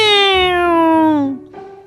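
A single drawn-out cat meow, loud and close, slowly falling in pitch before fading, followed by a faint short sound.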